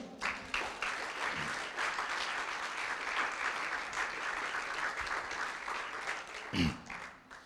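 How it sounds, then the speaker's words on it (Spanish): A church congregation claps for the Lord during a sermon. The applause is continuous but faint and distant, with brief louder bumps near the start and toward the end. "Dele un aplauso al Señor"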